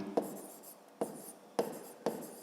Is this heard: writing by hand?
yes